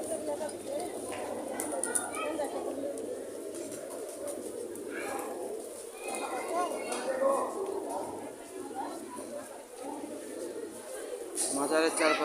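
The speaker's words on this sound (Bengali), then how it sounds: "কবুতর নিজ আপন মনে ধান খেয়ে যাচ্ছে।" Pigeons eating paddy at the Shahjalal shrine in Sylhet give soft repeated cooing against a low outdoor background, with a person talking over it throughout.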